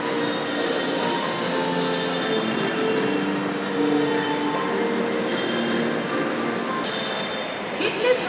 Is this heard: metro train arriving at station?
yes